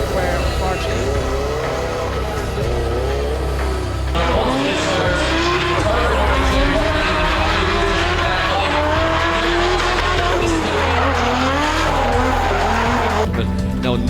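A drift car at Mondello Park during Irish Drift Series Round 1 at Japfest skids around the track, with loud sustained tire squeal and revving engine throughout while a commentator talks over it.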